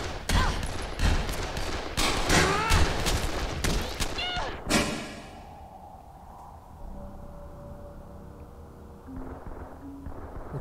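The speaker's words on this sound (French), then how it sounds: "Il y en a un qui me tire dessus, c'est pas vrai!" Rapid bursts of gunfire from enemies shooting at the player in Dead Island crackle loudly for about five seconds, then stop, leaving a quiet low ambience with faint tones.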